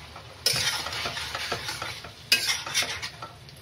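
Potatoes and green chillies tossed into a pan of frying mutton liver for a Bengali kosha curry, with two sharp bursts of sizzle and clattering stirring strokes in between, close and clear with no voices.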